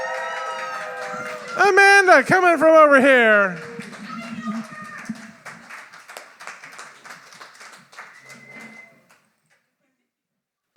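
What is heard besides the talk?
audience applause for poet at poetry slam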